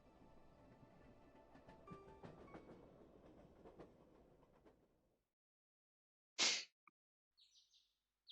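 A video game train clatters along its rails with a soft rhythmic rumble for about five seconds, then falls silent before a few bright synthetic tones.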